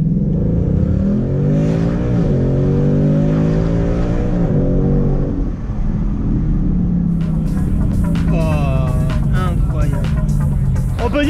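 Ford Mustang GT engine rumbling and revving steadily while driving, a loud continuous drone with rising pitch, someone speaking over it at first and then engine alone with brief high clicks near the end.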